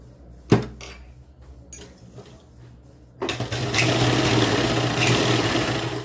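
A sewing machine stitches a seam on a 46-chest-size kurti with a half-inch margin, starting after a sharp knock and a few light clicks, then running as a loud, steady mechanical whir that continues to the end.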